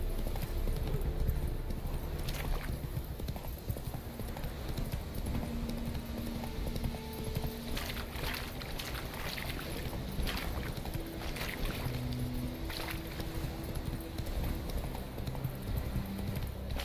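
Roach, the horse from The Witcher video game, gallops in a steady clip-clop of hooves that runs the whole time with little break, loud and close over a dense wash of ambient noise.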